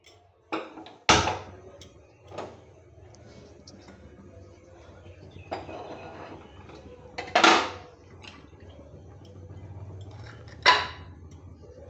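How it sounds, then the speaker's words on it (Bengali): A metal kadai is set down on a kitchen stove before frying pointed gourd, giving a few sharp, close clanks and knocks spread across a quiet background. "ততক্ষণ আমি এটা কড়াইটা বসিয়ে দিই তেলটা গরম হোক"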